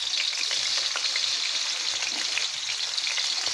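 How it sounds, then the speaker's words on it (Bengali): Spiced meat fries in a pan over a low flame, with a dense, steady sizzle and crackle running unbroken and close throughout. "এই মাংসটা আমি আগে ভেজে নিব।"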